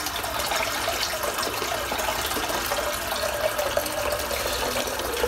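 Water runs from a tap into a filling sink before a head shave, a steady close rushing gush that continues evenly throughout with no talking.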